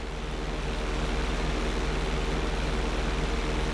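A propeller plane's engine drones steadily in the GTA 5 flight school mission, a constant loud hum with a faint pulsing throb and no voices.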